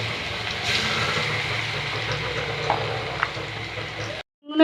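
Chicken pieces frying in plenty of hot oil in a pan, a loud steady hiss and crackle that goes on without a break, then cuts off abruptly near the end.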